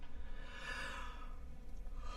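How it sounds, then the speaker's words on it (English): A person gives a single long, breathy yawn, faint and alone over a soft background hiss, with no talking. "Oh, yay, love a yawn"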